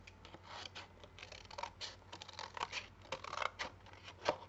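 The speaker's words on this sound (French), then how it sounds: "on vient couper les bords" Scissors snipping along the edges of a handmade paper card, a quiet close series of irregular cutting crunches and rustles.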